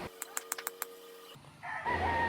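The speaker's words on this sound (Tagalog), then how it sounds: "So yung manok natin, so itatali na lang natin yan." A rooster in a backyard gives a quick burst of about six sharp clucks, near and fairly loud, followed by a brief crow-like call as other outdoor noise comes in.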